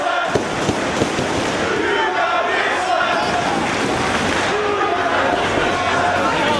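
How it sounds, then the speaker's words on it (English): Wrestling arena crowd in Chicago at ROH Supercard of Honor jeering a wrestler, a dense continuous roar of voices with a commentator talking over it. "And the crowd here in Chicago letting him hear it."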